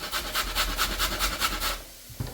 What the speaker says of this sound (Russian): Пока обжариваем лук, нужно натереть морковь на мелкой терке.